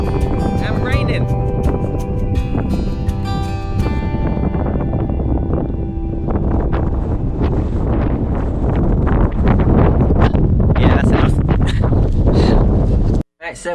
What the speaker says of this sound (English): you're not going to hear me out here because it's very windy